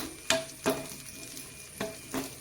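Sliced onions frying in hot oil, a faint steady sizzle broken by a few sharp scraping stirs of a spoon in the pan, four distinct strokes spread across the moment.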